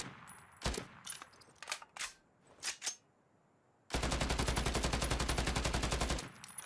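Sporadic single shots from a distance, then a sustained burst of full-auto rifle fire from a WWII shooter game in Battalion 1944, loud and rapid with steady, evenly spaced reports, with no talk.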